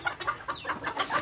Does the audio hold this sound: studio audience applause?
no